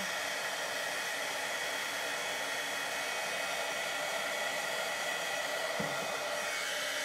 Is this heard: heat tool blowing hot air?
yes